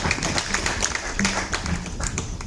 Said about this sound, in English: let us give a round of applause as he approaches the podium.